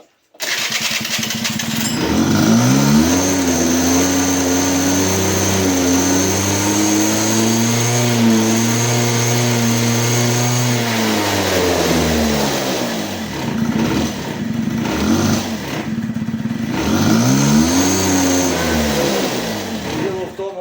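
A scooter engine fitted with an electric choke valve on its carburetor runs close by for about twenty seconds, its revs rising, holding and dipping in a steady, rough drone.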